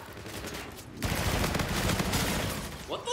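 Rapid automatic gunfire from the video game Call of Duty: Infinite Warfare, a dense burst of continuous shots that swells after a second and rattles on near and loud, with no voices over it.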